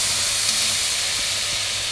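Prawns fry with salt and turmeric, giving a dense, even hiss of hot oil that stays steady and close for a couple of seconds.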